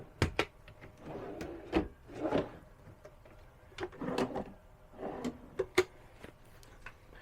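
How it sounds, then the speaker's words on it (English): Pull-out drawers under a caravan single bed slide and knock open and shut several times, short wooden rubbing and thuds at close range with quiet gaps between, no talk. "Including 3 pull-out drawers."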